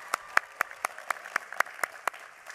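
Clapping at a public health and nursing graduation ceremony, about a dozen distinct claps in an even, moderately fast rhythm, close and clear over a quiet background.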